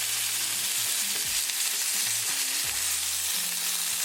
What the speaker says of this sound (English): Now we're going to cook on this side until it's fully cooked